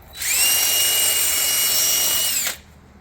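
A power drill whines steadily for about two seconds at close range, drilling anchor holes, starting and stopping abruptly, with no talking.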